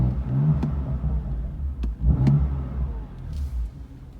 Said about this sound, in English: So if I start the car up